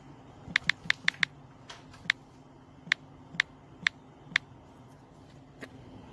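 A password is typed on a computer keyboard: about ten crisp, close key clicks in an irregular, quick-then-slower rhythm over a quiet background hum.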